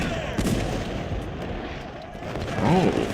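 Artillery fire in Ultimate General: Civil War, a Civil War battle game, with dull booms and rumbling over a dense battlefield din, some noise rising near the end; no speech.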